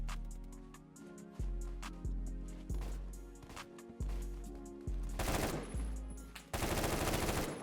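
Rapid automatic fire from an AK rifle in the Phantom Forces shooting game, loud, close bursts of repeated shots with short pauses between them and no talk over them.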